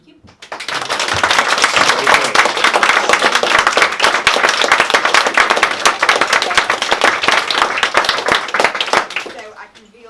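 Loud, close audience applause with dense, rapid clapping that builds quickly, holds steady for several seconds, then tapers off near the end.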